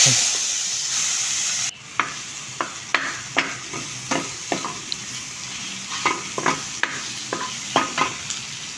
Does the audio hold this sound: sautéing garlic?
yes